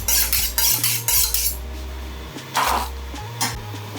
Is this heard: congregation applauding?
no